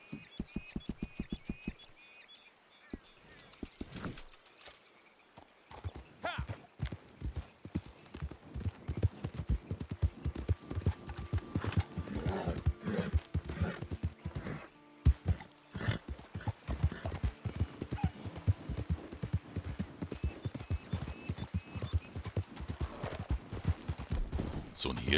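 Horse hooves clip-clop steadily as a rider travels in Red Dead Redemption 2 online, a brisk regular rhythm that runs for most of the stretch after a quieter start, with game sounds around it.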